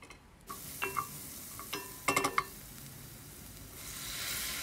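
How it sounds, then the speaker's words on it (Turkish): Onions and tomato-pepper paste sauté in a pan, giving a soft sizzle under a few scraping stir strokes and a brief cluster of utensil clicks against the pan, with no talking. "Güzelce salçayı da kavuruyorum soğanlarla beraber."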